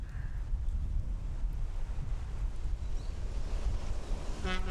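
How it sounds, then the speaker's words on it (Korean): Strong wind gusts at Taejongdae on Yeongdo, Busan, striking the microphone as a continuous low, buffeting rumble with a faint brief tone near the end. "부산시 영도에 있는 태종대에는 바람이 세차게 불고 있었다."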